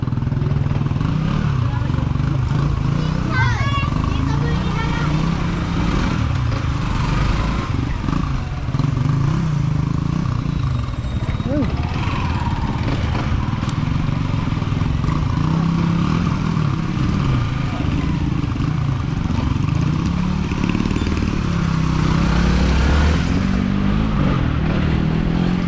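A motorcycle engine revs and runs steadily while riding along a flooded road, its low drone continuous and fairly loud throughout, with occasional clatter and brief voices over it.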